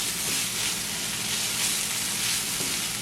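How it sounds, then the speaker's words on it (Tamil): Beetroot sizzles steadily as it is stir-fried in a pan, a continuous close frying hiss with faint stirring scrapes and no talk. "இதை இன்னும் கொஞ்சம் வறுத்தெடுப்போம்."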